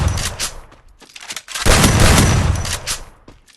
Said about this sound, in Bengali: আমি তোমাদেরকে দেখাচ্ছি শর্ট গানটা দিয়ে ওকে মারবো।